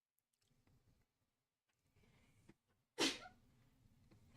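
A single loud, sudden sneeze bursts out close to the microphone during a quiet live stream, following faint murmuring and rustling.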